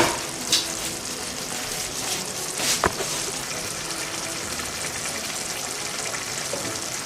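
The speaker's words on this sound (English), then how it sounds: "So we'll cover it and allow it to boil a little" A pot of stew base for rice bubbling and sizzling steadily over the heat, a continuous crackling simmer with a couple of brief clinks from the pot, no voices.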